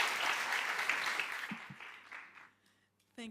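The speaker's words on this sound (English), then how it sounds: "If you could please give them a round of applause." Conference audience at the FSCA Industry Conference 2024 applauding, a full burst of clapping that gradually thins and fades to near silence before a brief voice comes in at the end.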